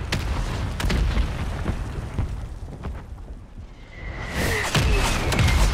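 A mortar explodes in the video game Warzone with a close, heavy boom and rumbling thumps, followed by a rising bright burst and crackle toward the end, with no speech.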